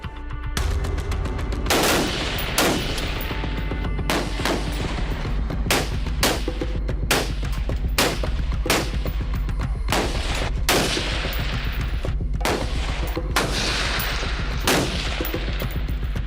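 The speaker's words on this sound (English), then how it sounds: "We were able to shoot the U.S. Arms AR-15 platform." U.S. Arms AR-15 rifles firing at an outdoor shooting range, a dense, continuous run of sharp, loud shots from several guns overlapping for over fifteen seconds, with no speech.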